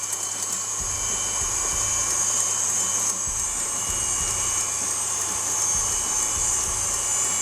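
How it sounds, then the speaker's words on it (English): Electric mixer whisking egg whites as hot sugar syrup is added for a thick meringue, a steady loud whirring motor drone with a high whine that holds constant throughout, no voices. "So now we're going to allow it to whisk and come to a volume."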